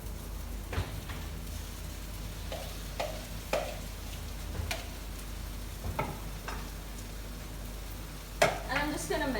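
A mashed potato and chana mixture sizzles in a pan with lightly browned onions, a soft steady frying hiss broken by intermittent sharp scrapes and clicks of stirring, close by.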